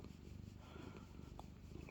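Maniek, a rescued cat, purring close up in a steady, low, rhythmic rumble that runs continuously and softly throughout, with no talking.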